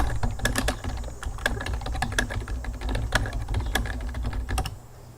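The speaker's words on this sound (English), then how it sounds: "Apologies if my keyboard's really loud when I type like that." Rapid clattering of keys on a computer keyboard, steady irregular clicks close to the microphone for several seconds, no voices.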